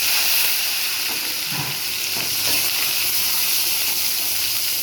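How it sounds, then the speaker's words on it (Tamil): Curry leaves and shallots frying in hot oil for an eggplant kuzhambu give a steady, loud hiss and sizzle that carries without a break, with no talking over it. "கருவேப்பிலை சின்ன வெங்காயம் போட்டு"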